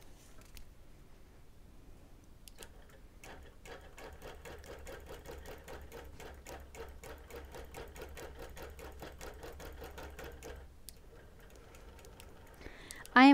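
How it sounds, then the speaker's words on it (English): A longarm quilting machine sews quarter-inch basting stitches along the perimeter of a quilt, its needle running in a fast, steady, quiet mechanical chatter for several seconds before stopping. "I am currently using a quarter inch basting stitch for the basting at the perimeter"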